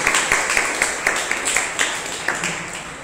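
A church congregation at a Sunday service applauds, loose rhythmic claps rising and falling in a moderately distant, reverberant room with no talk over them.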